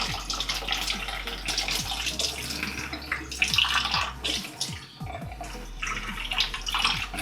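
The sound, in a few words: water poured into portable espresso maker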